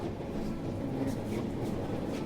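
Interior of a moving passenger train, a steady low rumble and rattle of the carriage rolling along the tracks, constant and moderately loud with no talking.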